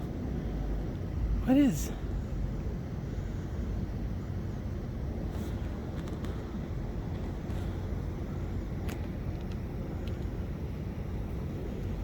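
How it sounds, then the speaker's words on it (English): A jet aircraft drones overhead as a continuous low, distant rumble, with someone speaking briefly near the start. "There is that jet again."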